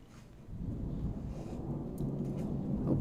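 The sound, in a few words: thunder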